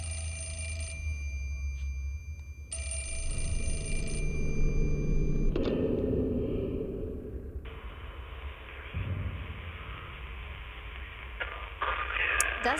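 A telephone rings repeatedly with a steady electronic trill in the video game Project Zero: Mask of the Lunar Eclipse, layered over game music and ambient tones, with a voice speaking intermittently.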